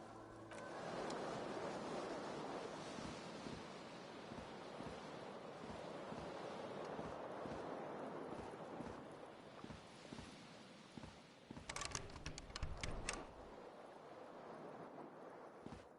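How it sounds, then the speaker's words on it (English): Cool wind gusting in through an open balcony door in Disco Elysium, a steady broad whooshing rush with surf-like swells throughout, briefly rougher and louder near the end. "A cool wind gushes in."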